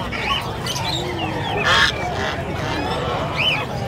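Geese honking at an outdoor pet market in Bocaue, with a few distinct calls rising over a busy, steady crowd murmur.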